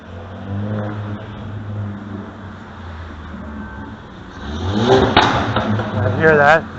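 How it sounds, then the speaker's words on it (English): A car with a tampered, broken muffler rumbles nearby and then revs up loudly and raspily toward the end, with a voice talking over the engine noise. "Now that is obviously one of the broken muffler cars there"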